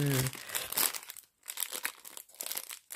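Crinkly plastic wrapping on a package of ribbons rustles and crackles in bursts as it is unwrapped, with brief quiet gaps between handlings.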